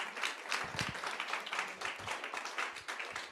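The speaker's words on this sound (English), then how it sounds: "Let's give another round of applause for that amazing panel." An event audience applauds a panel of speakers, a steady wash of clapping at moderate level that holds for the whole stretch without fading.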